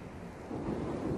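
Coastal wind in the Dear Esther video game, by a beach and steep cliff: a steady, soft broadband rush with a low rumble like distant surf, growing slightly stronger halfway through.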